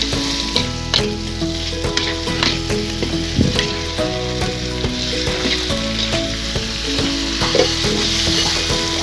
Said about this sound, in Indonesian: Kita masukkan tempe. Oke, diaduk-aduk sebentar.